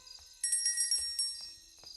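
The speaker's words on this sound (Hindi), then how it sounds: "इसकी घंटी बजा देते हैं तो ग्रैनी अंदर आएगी।" A doorbell at a gate in Granny Chapter 2 gives a quick series of bright metallic rings, quiet and alone with no talking.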